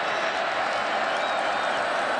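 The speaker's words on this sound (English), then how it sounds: "they're even better here at home as the crowd gets loud on 3rd and 3" A college football stadium crowd, Wisconsin Badgers at home against Western Kentucky, roars at a steady high level on third down, a dense wash of cheering and noise with no break.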